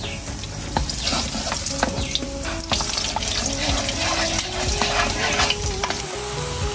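Garlic cloves fry in a generous amount of hot oil in a home kitchen, giving a constant close crackling sizzle with scattered sharp pops and spatters.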